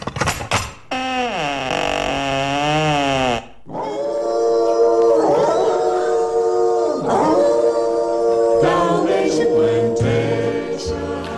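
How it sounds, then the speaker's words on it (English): Two Dalmatian dogs growl and howl at a door as a comedy sound effect, with long wavering howls, whimpers and yips that rise and fall loudly and close up, without any talk. "two inquisitive-looking Dalmatian dogs, their hackles raised and growling fiercely at the strange woman"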